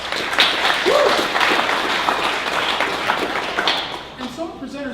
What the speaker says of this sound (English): Let's give Techstars a round of applause.